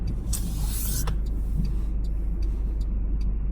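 Car rolling along a road, a steady low engine and tire rumble heard from inside the vehicle, with a few faint clicks and ticks over it.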